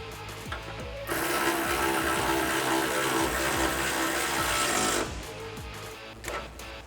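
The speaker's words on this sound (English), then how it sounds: "Now we're gonna grab our 12 millimeter socket and tighten down these bolts here" A 12 millimeter socket on a tool tightens the bolts of a rear bumper on a 2005-2015 Toyota Tacoma, giving a close, steady buzzing whir for about four seconds against a softer, repetitive ticking background.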